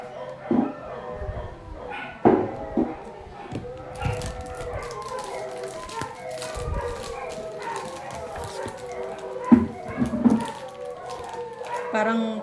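Dog barking in short irregular bursts at moderate distance, scattered across the clip among other household sounds and occasional voices.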